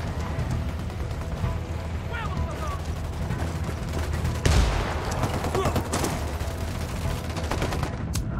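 Sustained gunfire and rolling explosions in the tactical shooter Ghost Recon Wildlands, a dense barrage with sharp crack-like bursts over a heavy low rumble, a louder blast near the middle, continuous throughout.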